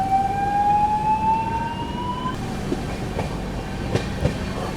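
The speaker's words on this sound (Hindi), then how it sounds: "अपनी ट्रेन ने दोस्तों भरतना रेलवे स्टेशन को स्किप कर दिया" Humsafar Express 22437 (Prayagraj to Anand Vihar) runs through Bharthana station without stopping, slowed under a caution order. A steady rising whistle-like tone gives way to broad rolling rumble and scattered wheel clicks, close and loud.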